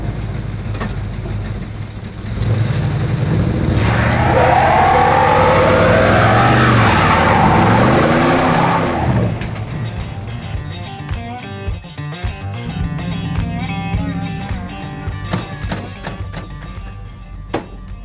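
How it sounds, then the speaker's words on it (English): A 1979 Dodge Little Red Express pickup truck does a burnout. Its engine roars loudly with squealing tires for about six seconds, then drops back to a rumbling idle mixed with scattered clunks. "did you really think we weren't going to do a burnout?"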